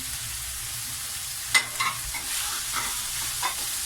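Peas and carrots frying in a pan give a soft, steady sizzle, with a few sharp stirring clacks in the middle and a brief scrape near the end; no voices.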